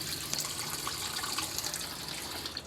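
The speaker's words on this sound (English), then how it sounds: "then you control your water from the tap" Water runs from the main tap into a semi-automatic washing machine, a steady close hiss of flowing water with no talk.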